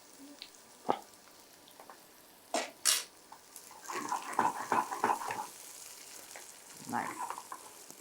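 Ginger, garlic, shallots, black pepper, fennel and cumin frying in a pan for a Sankara fish curry, with sizzling and stirring clatter in irregular bursts, close and moderately loud, and no talk.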